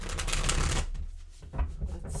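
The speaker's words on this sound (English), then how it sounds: "Just a couple more shuffles." Tarot cards riffle in a fast, crisp shuffle, close and steady, then pause before a few more quieter flicks and taps.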